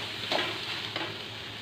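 Frying food, banana flower cooked with moong dal and fish head, is stirred in a hot pan, with a steady sizzle and two brief scraping strokes.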